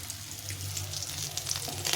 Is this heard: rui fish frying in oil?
yes